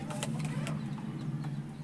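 A pigeon coos in a low, steady, rumbling drone near its chicks that runs throughout, with faint background noise above it.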